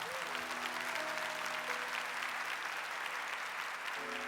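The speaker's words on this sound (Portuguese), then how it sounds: "Aplauda esta palavra." A church congregation applauds steadily for several seconds at a Portuguese-language worship service, dense even clapping filling the room with faint sustained voices or music tones beneath.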